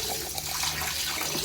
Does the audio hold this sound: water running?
yes